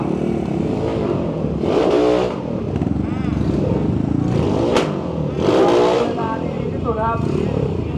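Racing vehicles with big-bore engines roar around a race track, a loud continuous engine drone swelling into two strong revving bursts with rising and falling pitch sweeps, while people talk over the noise.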